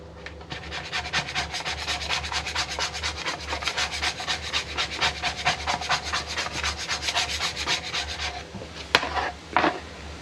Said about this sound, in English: And then whilst the wax is still warm, I'm going to scrape it.